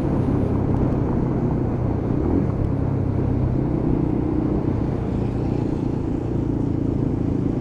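Lexmoto LXR motorcycle riding along an urban road, a steady loud low engine drone with broadband road and wind rumble throughout, close and continuous with no talk.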